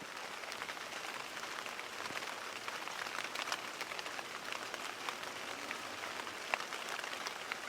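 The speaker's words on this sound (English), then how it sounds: "The grape arbor over the door of the house sings the music of the rain." Rain falls on a grape arbor over a house door, making a steady, dense patter of drops with no voices and only a few slightly sharper drips standing out.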